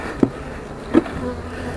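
Honeybees hum in an opened hive during a fall inspection, a low steady drone with two brief louder bumps as the hive is worked, heard up close.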